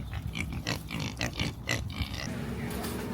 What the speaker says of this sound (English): Look at those little pigs.